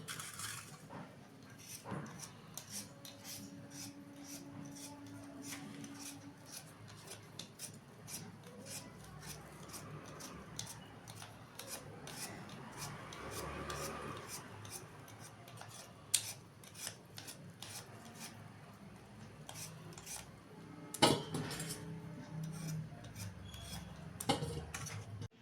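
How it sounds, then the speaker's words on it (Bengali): New potatoes for aloo dum are peeled and cut by hand, giving a long run of soft scraping, small ticks and clicks of a blade. A few sharper knocks come near the end. "এই আলুগুলো মা এখন ছুলে নিচ্ছে"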